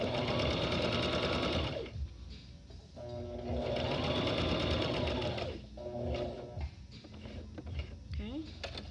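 A sewing machine stitches bias binding onto a garment in two loud, steady runs separated by pauses, followed by a shorter burst with fabric handling and clicks in between.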